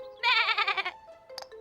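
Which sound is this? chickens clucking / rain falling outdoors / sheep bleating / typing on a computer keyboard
sheep bleating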